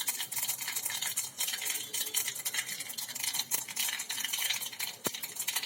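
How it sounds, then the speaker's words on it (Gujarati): Mustard seeds dropped into hot oil for tempering while preparing the gravy for Surti khaman, a steady dense crackling sizzle throughout, close and fairly loud, with a single sharp clink near the end. "તેમાં થોડીક રાઈ ઉમેરી દઈએ"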